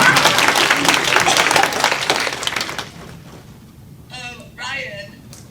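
A burst of clapping and cheering at a graduation party for about three seconds, then it dies away into quieter room sound with a couple of short voices.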